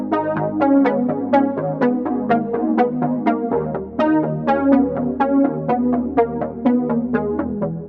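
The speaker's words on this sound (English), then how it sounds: "this is coming from the Juno 106 from Arturia" An Arturia Juno-106 synth on its default patch plays a rhythmic riff of plucky repeated notes over a sustained low bass, up front and without voices.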